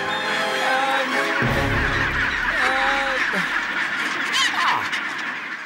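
A huge breeding colony of about 150,000 birds fills the air with dense, overlapping honks and calls. Several loud calls stand out close by above the constant clamour.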